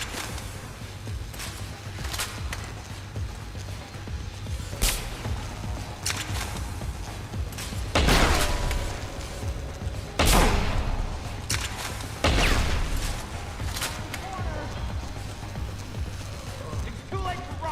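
Gunfire in the video game Deus Ex: Human Revolution, with several loud, close shots bursting out in an irregular pattern amid game noise and voices talking.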